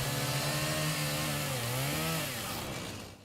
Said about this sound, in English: The sound of chainsaws can be heard across Moore, Oklahoma as countless volunteers work nonstop to help these families get their lives back together.